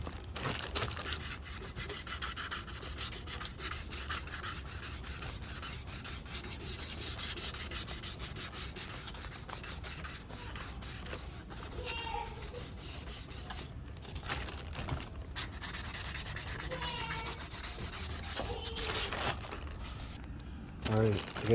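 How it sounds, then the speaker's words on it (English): Steady rubbing and sanding on a cracked plastic vehicle taillight, a close, quiet scratchy scrubbing that runs on with brief pauses and shifts in stroke. "I got it pretty much sanded where I want it"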